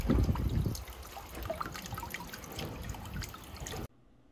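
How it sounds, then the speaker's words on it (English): Water churned and trickling in a koi pond, pushed by a small 20 watt solar pond pump with its fountain head removed: a steady close bubbling splash that runs alone for most of the clip, then cuts off abruptly near the end. "look how much water is getting moved by that small pump"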